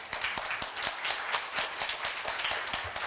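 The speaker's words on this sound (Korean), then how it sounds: "박수로 환영해 주십시오." An audience at a Korea University event claps steadily to welcome a guest onstage, a dense, even applause that continues throughout.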